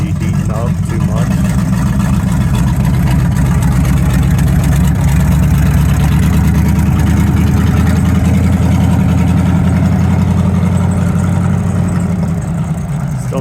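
A 1951 GMC 100 pickup truck engine runs steadily, a loud, constant low rumble with an even idle throb close by, holding without pause from start to end.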